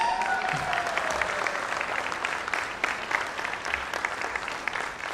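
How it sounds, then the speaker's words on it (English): An audience at a hotel industry awards summit in India applauds for about five seconds, a dense, fairly loud clapping that slowly thins as it goes on. "your special prize is a very big round of applause."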